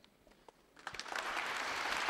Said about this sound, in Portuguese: Santo Padre recebe o aplauso da comunidade